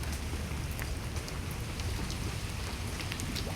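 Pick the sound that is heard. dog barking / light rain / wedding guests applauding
light rain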